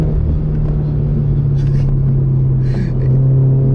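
A 2017 Toyota 86 sports car driving through a canyon, its engine holding a steady, loud drone close by for the whole stretch, with faint rustling noises above it.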